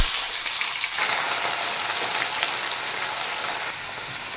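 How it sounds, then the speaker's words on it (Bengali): Chopped vegetables fry with salt and turmeric in a pan over cumin seeds, giving a steady, even sizzle that holds close and moderately loud with no talk over it. "পরিমাণ মতো নুন আর হলুদ দিয়ে আমি সবজিগুলো একটু ভেজে নেব।"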